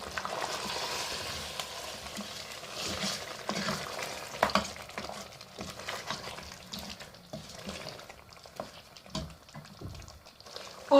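Mutton is stirred in a pot with four slit green chilies, a steady scraping and sizzling stir with small clinks, close and alone without talk.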